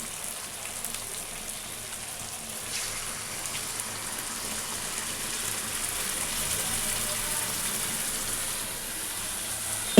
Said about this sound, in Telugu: ఇప్పుడు ఇందులో చింతపులుసు వేద్దామండి.